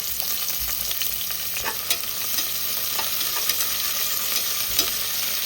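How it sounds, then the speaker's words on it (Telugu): Chopped onions and curry leaves fry in a hot pan for a cluster bean curry, giving a loud, steady sizzle with occasional stirring scrapes and taps, and no voices. "అలాగే ముందుగా కట్ చేసి పెట్టుకున్న ఆనియన్స్ కూడా ఇందులోకి యాడ్ చేసుకుందాం"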